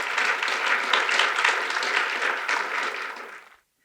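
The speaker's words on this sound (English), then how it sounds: "Can we get a round of applause for our panelists?" Steady audience applause for panelists at an economic outlook and membership meeting. Dense, even clapping from a room full of people holds for about three seconds, then fades out quickly and leaves silence.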